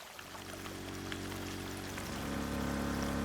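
Steady water rush in the Drain Sim game as an alley is pumped out, a continuous pouring stream that swells slightly louder toward the end, with no voices.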